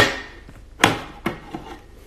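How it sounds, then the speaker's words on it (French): A few sharp, crisp snips of scissors cutting hair, close and irregular, three or four short clicks spaced apart in a quiet room. "Parce que ces petits coups de ciseaux là"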